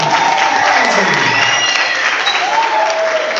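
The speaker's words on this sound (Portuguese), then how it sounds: "Vamos aplaudir mais," A crowd at a school Sambô staging applauds loudly and continuously, with cheering and voices mixed into the steady clapping for the whole stretch.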